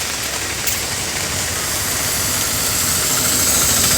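Heavy rain pours with a loud, dense roar, mixed with the low rumble of an idling engine nearby.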